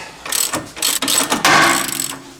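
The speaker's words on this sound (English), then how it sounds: "Suspension parts coming out of an engine bay" Metallic clanks, scrapes and ratcheting clicks come in quick bursts as heavy suspension parts are wrenched and pried out of a Corvette C3's engine bay, close and fairly loud.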